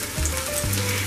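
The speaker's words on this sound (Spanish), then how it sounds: "Y vamos a ponerlo en el aceite hirviendo." Coated croquettes lowered into boiling oil, giving a sudden, close sizzle that swells as each piece goes in and carries on as a steady frying crackle.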